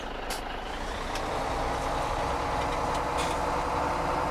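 A truck in Farming Simulator 17 runs as a steady, close engine drone, with faint reversing beeps and brief air-brake hisses over it. No one talks.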